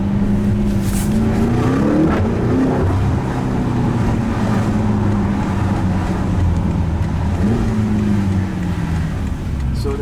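A BMW X5M F85 with a 575 HP engine accelerates at full throttle through city streets, its loud engine note climbing in pitch, dipping at a gear shift, then rising again while a voice talks over it.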